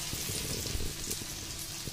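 Fish roe fritters fry a few at a time in fish oil, giving a soft, even, fairly quiet sizzle with faint crackles throughout and no talk.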